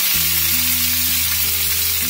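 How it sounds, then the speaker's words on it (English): Lemongrass, basil and kaffir lime leaves frying in hot oil for a Thai green curry, a steady dense sizzle with a low hum beneath, continuous and close. "while frying the lemongrass, basil as well as the kaffir lemon leaves"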